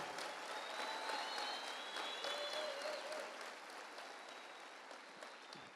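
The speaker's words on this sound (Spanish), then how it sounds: "¿Por qué no le da un aplauso al Señor bien fuerte?" A church congregation claps loudly and steadily, a dense continuous applause with faint cheering voices mixed in, holding at an even level to the end.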